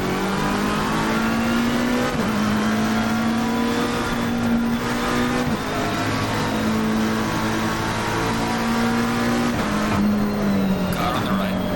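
Race cars roar off the start in Assetto Corsa Competizione, with loud engines revving up through repeated gear shifts and a dense pack of cars around, while a driver talks over it.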